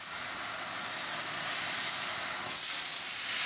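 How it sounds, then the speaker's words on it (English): A laser cutting machine slices thin metal sheet using compressed air as the assist gas, giving a continuous, even, broadband hiss that holds steady throughout with no speech. "For thin metal sheets like this one we are cutting, we can use only compressed air."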